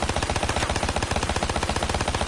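Rapid akimbo automatic gunfire from a video game played on a modded PS4 controller, a dense, fast, steady stream of loud shots with no talking.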